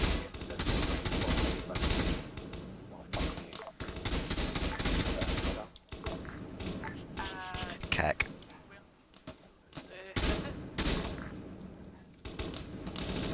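Gunfire in a military co-op video game: rapid bursts of automatic fire and single shots crackle in dense, loud volleys with short gaps, while voices talk over the firing.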